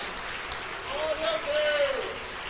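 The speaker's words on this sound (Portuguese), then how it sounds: "Se você pode, aplauda ao Senhor nesta noite" A church congregation applauds during an evening worship service, a soft continuous patter of clapping resembling rain, with a voice sounding over it.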